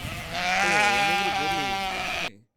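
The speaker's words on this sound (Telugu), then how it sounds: "గొర్రెలు మంచిగా మేస్తున్నారు అవి, ఇంత ఎండలో కూడా." A single sheep gives a long, wavering bleat close by while grazing in hot sun, loud and clear, ending abruptly.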